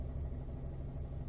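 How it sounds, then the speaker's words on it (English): A Ford vehicle's engine idling while it warms up to full operating temperature, giving a low, steady, quiet rumble with no talking. "we're going to start it up, okay, and we're going to let the vehicle idle until it gets to the full hot, full operating temperature"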